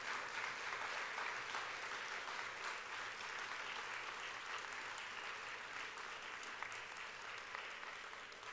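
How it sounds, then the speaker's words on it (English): A standing audience at a college lecture series gives sustained, even applause for a visiting bishop, a dense wash of clapping heard from a distance throughout, with no talk over it. "And I want you to give Bishop Holston, a rounding applause of appreciation"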